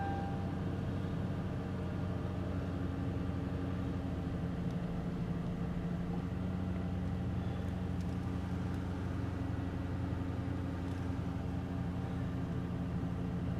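A Mercury Grand Marquis with about 121,000 miles idling steadily after a cold start, a smooth, even low hum with a constant droning tone, continuous and unchanging throughout with no voices.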